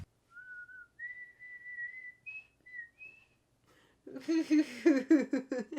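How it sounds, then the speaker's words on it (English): A person whistles a few clear, sustained notes with short pauses, then switches to a quicker, warbling run of higher notes, close and fairly soft. "Hey, I can whistle."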